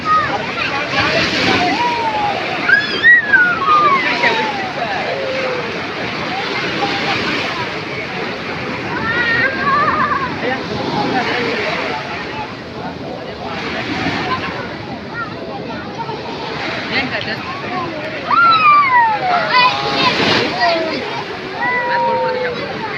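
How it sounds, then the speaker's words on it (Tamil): Large ocean waves roll in and break along the Kanyakumari shore, a continuous wash of surf and splashing with recurring surges, while people talk over it. "அலைகள் பார்த்தீங்கன்னா அப்படியே பெரிய பெரிய அலைகளாக வருது பாருங்கள்"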